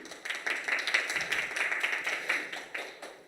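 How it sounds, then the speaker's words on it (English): Audience at a design workshop giving a round of applause, a close, loud run of distinct claps with a lively uneven rhythm, no talk over it. "I would ask first a round of applause for being today here"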